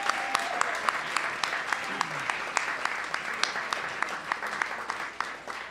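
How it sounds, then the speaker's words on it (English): Audience applause after an evening of speakers at a live entertainment event, steady clapping from many hands that runs the whole stretch, with cheering and scattered voices mixed in. "And a big round of applause for all of our speakers tonight."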